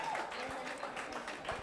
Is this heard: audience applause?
yes